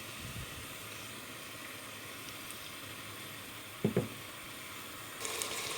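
Faint, steady sizzling of a medium onion, thinly sliced, frying in oil, a soft crackling hiss with a couple of small clatters.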